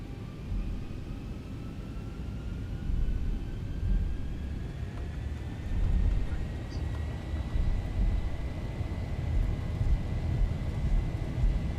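Airliner engines in a Zibo mod 737 flight simulator spool up toward takeoff thrust, a steady broad roar with rising whine tones, constant and fairly loud throughout.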